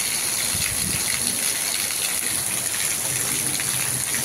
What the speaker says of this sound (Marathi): तसं पाणी किती प्रेशरने चाललंय बघा खाली